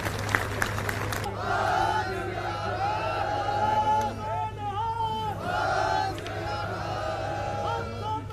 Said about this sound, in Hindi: मैं चाहता हूं एक बार जोरदार तालियों के साथ उनका स्वागत किया जाए।